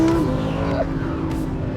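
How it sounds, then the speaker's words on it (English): A 2020 Audi R8 V10 Performance engine revs hard through rapid manual paddle upshifts, a loud, steady roar from inside the car with almost no break in power between gears. "Listen to how fast the shifts are."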